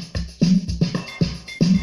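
Drum beat programmed in Caustic 3 with a military snare and barrel-like percussion, four evenly spaced punchy hits with short tails, played alone and fairly close.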